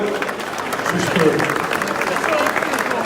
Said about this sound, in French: on peut applaudir monsieur le maire